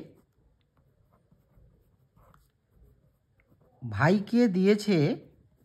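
Chalk or a pen writes math on a board in faint, scattered scratches and taps, then a voice speaks briefly and clearly near the end.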